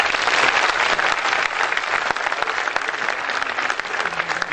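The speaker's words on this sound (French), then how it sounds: "je crois qu'il mérite nos applaudissements" A jazz festival audience in Ouagadougou claps in a warm, sustained round of applause, dense and fairly loud with scattered sharper claps, and no one speaks over it.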